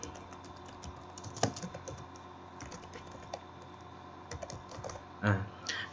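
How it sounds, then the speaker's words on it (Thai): Quick irregular clicks of a computer keyboard as a name is typed into a PowerPoint slide, light close taps in bursts with a heavier thump near the end, faint background hum and no voice over them. "พิมพ์แก้ไขชื่อนะครับ อ่าเราก็พิมพ์ไปนะครับ อ่า ผมก็พิมพ์ไปนะครับ"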